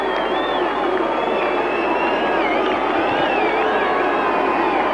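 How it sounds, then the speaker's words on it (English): A big stadium crowd at a rugby league grand final roars and boos as the Wests Tigers run out against Eastern Suburbs, a dense, loud, unbroken wash of voices with a commentator talking over it. "Judging by the boos, I think West might be favourites here with the crowd this afternoon"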